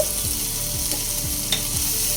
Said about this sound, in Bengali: এইভাবে অনবরত নেড়ে চেড়ে কষিয়ে নিতে হবে